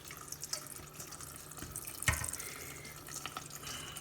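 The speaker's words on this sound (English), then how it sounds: "we're going to add some more cold water, because I want to stop that cooking process" Cold water runs from a tap into a pot of hot potatoes in a kitchen, a soft steady splashing stream with a brief louder splash midway and no voices.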